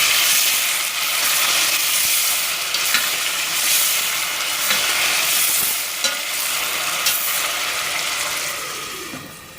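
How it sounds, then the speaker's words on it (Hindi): Tomatoes stirred and frying in a pan for mustard greens saag, a steady close sizzle with scraping stir strokes throughout, no voices. "अब इसको थोड़ा टमाटर को घुमा लेंगे ताकि ये जल ना जाए"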